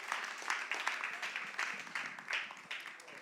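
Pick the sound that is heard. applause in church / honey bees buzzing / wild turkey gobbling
applause in church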